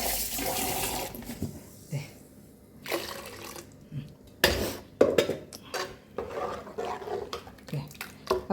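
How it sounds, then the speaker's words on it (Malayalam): Water is added to a pot of simple toor dal parippu curry, with several separate splashing bursts mixed with clinks and knocks of a pot and utensils, close and uneven. "കുറച്ച് വെള്ളം കൂടെ ചേർത്തിട്ട് ഞാൻ തിളപ്പിക്കുള്ളൂ."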